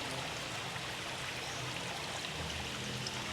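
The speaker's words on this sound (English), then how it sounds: "So you're allowed to have these drip of water, stream of drip of water just coming down" Water trickling and dripping down suspended stone structures in a large 6000-gallon rainforest aquarium, a steady soft stream of broadband splashing with no pauses, moderately faint and continuous.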